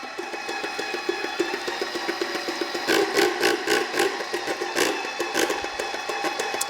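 A Tritech airless paint sprayer, with water added to its hopper, runs with a steady mechanical whir and a rapid, regular clunking and knocking pulse that grows louder midway, close up, with no talking.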